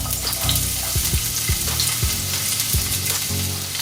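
White onion and Scotch bonnet pepper sautéing in a pan, a loud, continuous sizzle close by with occasional stirring scrapes and no talk.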